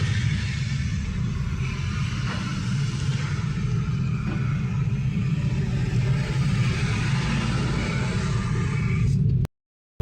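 Road traffic during the monsoon rides in from inside a moving car, a steady low engine rumble and road noise with faint passing vehicles before it cuts off abruptly near the end.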